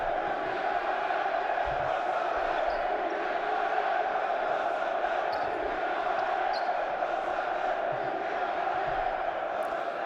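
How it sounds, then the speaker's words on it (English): A large indoor home crowd at a Basketball Champions League game roars steadily, a dense continuous wall of cheering and shouting with occasional faint thumps of a bouncing ball. "home crowd now, you can hear them"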